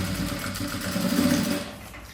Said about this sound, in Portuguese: vem na máquina e prende